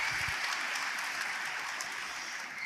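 A conference audience applauds the band, choir and orchestra with dense, sustained clapping that fills the room and holds steady for a few seconds before easing slightly.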